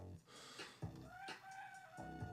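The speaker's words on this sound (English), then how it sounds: "The rooster's still crowing. He's still out there crowing." A rooster crows outdoors, drawn-out calls repeated several times, faint and distant beneath a low background hum.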